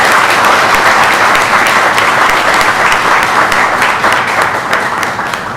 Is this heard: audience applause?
yes